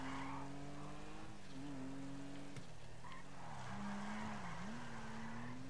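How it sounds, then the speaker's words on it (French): A car skids in GTA with a long, wavering tire squeal that bends in pitch and runs over a steady engine roar, fairly close and alone. "Oh là là, c'est dérapage."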